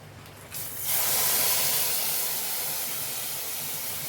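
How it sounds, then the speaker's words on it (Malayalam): Hot tempering poured into a pan of curry, setting off a sudden loud hissing sizzle that swells within a second and then holds steadily, slowly easing off. "വറവ് ഒഴിച്ചു കൊടുക്കണം"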